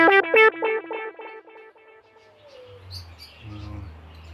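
Pigeons call in a quick series of close, ringing notes that fade over a couple of seconds, leaving a low background hum with faint later sounds.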